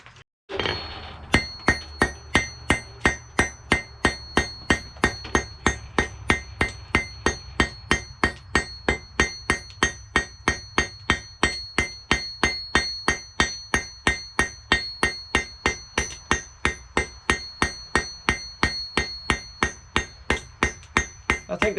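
A hot steel punch being forged round on an anvil, a long run of evenly spaced ringing hammer blows, loud and close, with a bright metallic clink on each strike.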